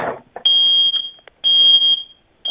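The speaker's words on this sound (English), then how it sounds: "Is that a fire alarm?" A kitchen smoke detector sounds off in loud, shrill beeps, two long tones with brief gaps between them and a third starting at the end, set off by something burning.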